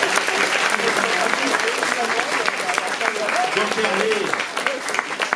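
Audience applause at a 2019 osteopathy diploma ceremony, a steady, dense clapping that fills the room throughout while someone talks over it.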